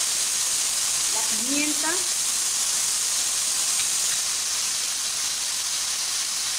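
Garlic hits a hot pan in a Mexican chicken-and-nopales dish, a steady broad sizzling hiss filling the whole stretch at close range, with a brief spoken word riding over it early on.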